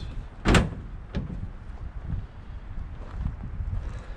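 A truck tailgate on new hinges swings open and shut, giving one solid bang followed by a softer clunk, with quiet wind-like background noise.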